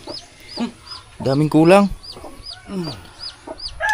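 A hen clucks near at hand with her chicks around her, short repeated calls rising over a rural yard while a person talks in Filipino.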